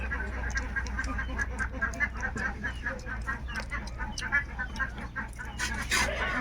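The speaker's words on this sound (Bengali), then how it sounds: "হাঁসে প্যাক প্যাক করতেছে" Ducks on a village farm on a cold, foggy winter day, a dense flock giving repeated overlapping quacks and honks against a constant low rumble, fairly close and loud throughout.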